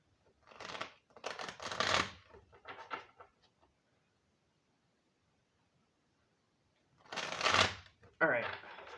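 Tarot cards being shuffled in several bursts of riffling and rustling, close and moderately loud, with a quiet pause in the middle before a final shuffle.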